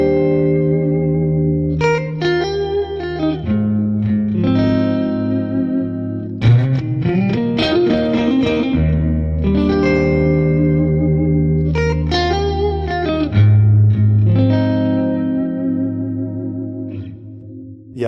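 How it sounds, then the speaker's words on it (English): Electric guitar plays through a Fender cabinet simulation in a clean, full tube tone with chorus and reverb, mixing sustained chords and single-note phrases up close, alone without talk. "let's listen to another cabinet, also very nice, this Fender cabinet here"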